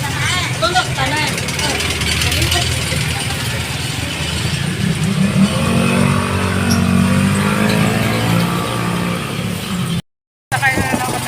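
A tricycle motorcycle taxi engine chugs and revs loudly up close in Dipolog City, mixed with voices and traffic, cutting out briefly near the end.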